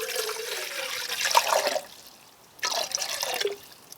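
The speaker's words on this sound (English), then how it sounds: "So first, I'm going to put a bit of water" Water poured into a Fire Maple camping pot for steaming Brussels sprouts, two short bursts of splashing and trickling liquid close by, separated by a brief pause.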